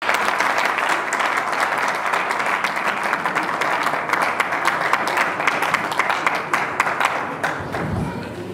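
A church congregation claps in sustained, dense applause at a memorial tribute service, steady and loud throughout with a brief low thump near the end and no voices.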